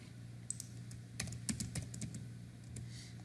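Code is typed on a computer keyboard: a faint, quick run of irregular key clicks that bunches up in the middle, alone with no talk.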